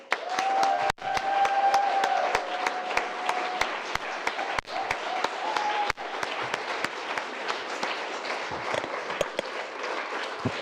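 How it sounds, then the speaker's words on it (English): Sustained applause from a hackathon audience honoring the event organizers, dense clapping filling the room for about ten seconds with a brief dip near the start and a few sharp claps standing out. "so give a warm applause for them"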